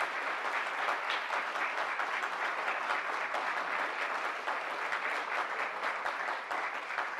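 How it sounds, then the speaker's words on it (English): Sustained audience applause at a formal ceremony celebrating Gandhi's birthday, even and continuous throughout without any talk over it. "I guess the applause speaks for itself."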